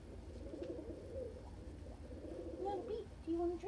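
Soft, low bird cooing repeats in gentle warbling phrases, close by, over a faint background hum.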